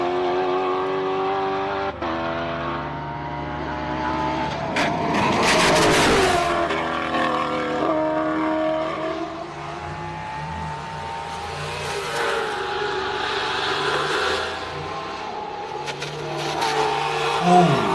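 A race car powers up the Simola hillclimb course, its engine roaring steadily and loudly. The pitch rises and drops through quick gear changes, and the car stays close throughout.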